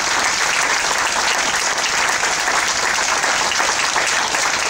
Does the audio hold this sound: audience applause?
yes